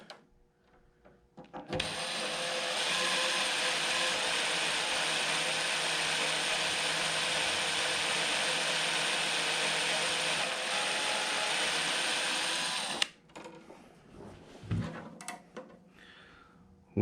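A power drill bores into the frame of a 1967 Vespa Super scooter during an electric conversion build, a loud, steady whine held for about eleven seconds before stopping abruptly, followed by faint clatter.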